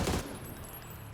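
A quick burst of gunfire in a PUBG match, a short rattling volley of shots at the start that fades into a fainter background of game ambience.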